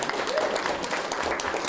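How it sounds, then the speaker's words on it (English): An audience at a health care forum applauds the musicians who have just performed, a steady wash of moderate clapping that runs the full length, with a voice faintly present underneath. "How about a round of applause for them?"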